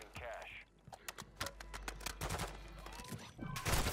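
Spaced, separate gunshots from a slow-firing gun in the Call of Duty DMZ video game, sharp cracks at irregular intervals under someone talking, ending in a louder burst.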